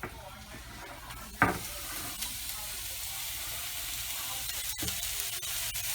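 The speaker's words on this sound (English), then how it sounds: "I got my burger in the skillet, starting to fry up" Ground chuck burger and onions fry in a skillet with a faint, steady sizzle and a few soft clicks and scrapes of a utensil, heard fairly close.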